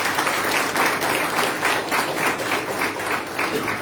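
Steady, dense applause from a large audience at a Brahmin community gathering near Dombivli, continuous and loud from start to finish with no voices over it.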